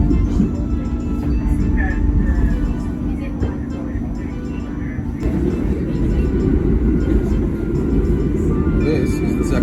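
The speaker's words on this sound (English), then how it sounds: "This is the second half subway." A New York subway train rumbles loudly, with a heavy, steady low roar, wheel and track noise, and brief high squeals, while people talk over it.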